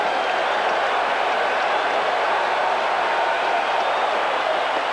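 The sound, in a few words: baseball stadium crowd noise building, 1986 World Series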